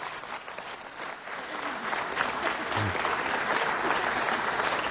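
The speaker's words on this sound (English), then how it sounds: "if we can give the girls volleyball team of Granada Hills a tremendous round of applause" A city council chamber crowd gives a girls' high school volleyball team a sustained, enthusiastic round of applause, dense clapping that swells slightly and holds steady throughout.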